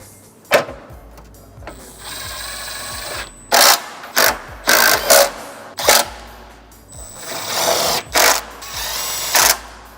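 A power drill drives screws into a vehicle's cooling stack, sounding as a run of short loud whirring bursts of varying length close by, separated by quieter pauses with faint handling sounds.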